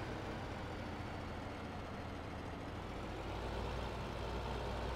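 A tractor engine in the Farming Simulator 15 video game drones steadily and quietly, a constant low rumble with no breaks.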